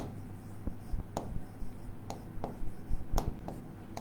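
Chalk or marker writes on a board in short scratchy strokes and taps at irregular intervals, fairly close and quiet, with a faint room hum behind.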